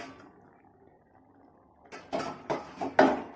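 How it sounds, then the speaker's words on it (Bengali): A lid lifted off a pan of cooking lote fish: after a quiet simmer, several close metallic clanks and clinks ring out in quick succession. "1 মিনিট পরে এবার আমি ঢাকাটাকে আবার খুলে দিচ্ছি।"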